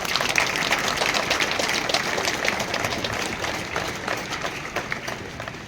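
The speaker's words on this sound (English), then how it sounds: "with a thunderous round of applause" A hall audience at a Goa Liberation Day school celebration breaks into a round of applause, many hands clapping steadily and fairly loud, then slowly tapering off.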